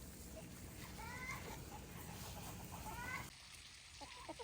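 Chickens cluck softly in a backyard flock of meat birds, with a few rising calls over steady outdoor background noise before the sound drops quieter near the end.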